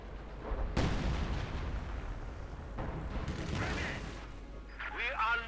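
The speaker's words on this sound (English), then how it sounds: "Artillery going down here in this Soviet forward position before the assault." An artillery barrage in the strategy game Company of Heroes 2, a sharp booming impact followed by a continuous rumble of shelling and scattered crackling blasts, dense and loud, with brief whistling near the end.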